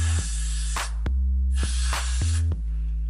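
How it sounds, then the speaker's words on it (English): Short bursts of spray are applied onto a lace front wig, several loud close hissing pulses separated by brief pauses, with no talking. "Now, I take the actual spray"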